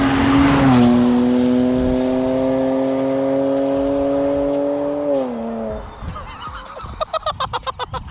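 A BMW 335i with a downpipe fitted and an otherwise stock exhaust line drives past, its engine droning loud and steady before the note shifts as it moves off, followed by sharp popping bursts.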